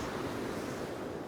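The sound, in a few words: ocean waves on the shore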